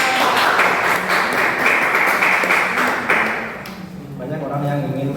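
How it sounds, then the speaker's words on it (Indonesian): A classroom group claps for several seconds in a dense, steady patter that thins out toward the end, with voices talking over and after it. "Tepuk tangan dong buat kelompok 2"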